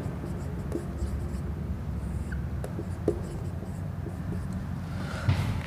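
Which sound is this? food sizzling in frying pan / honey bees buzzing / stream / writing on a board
writing on a board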